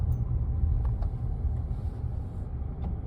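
A blue car drives past, giving a steady low road rumble with faint higher hiss, moderately close and continuous throughout.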